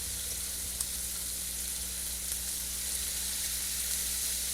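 A hamburger steak patty frying in a pan with gravy, giving a steady, even sizzle throughout, close and continuous with no voices over it.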